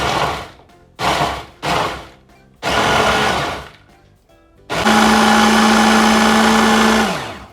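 A kitchen chopper grinds cookies into crumbs: three short whirring pulses, then a longer burst, then a sustained loud motor whine lasting a few seconds before it winds down, close by.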